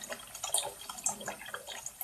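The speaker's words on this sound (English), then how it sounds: "I'm just going to fill that basin" Tap water runs steadily into a basin being filled to wash a synthetic wig, a soft continuous splashing trickle with small drips, close and fairly quiet throughout.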